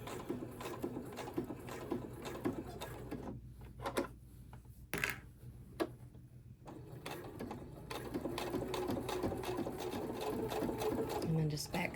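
A sewing machine stitching along the top of a fabric strip zipper pouch, a rapid mechanical needle rattle running close and steady with a brief pause midway, while a person talks over it.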